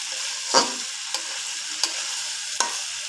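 Fish head frying with winter vegetables (beans, potatoes, aubergine, spinach) being stirred in a pan: a soft continuous sizzle broken by four sharp scraping strokes of a spoon, close and clear.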